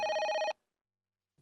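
An electronic telephone bell trills in a loud, tonal burst for half a second, falls silent, then starts ringing again at the end.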